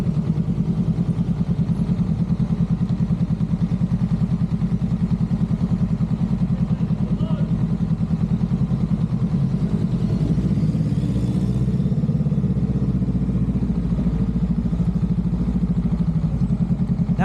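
A motorcycle engine idles and putters steadily at low speed, close by, with a slight change in tone partway through as it turns.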